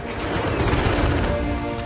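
Machine gun fire in a war setting, a dense rapid fusillade of overlapping shots and booms, loud and close, sustained across the whole moment.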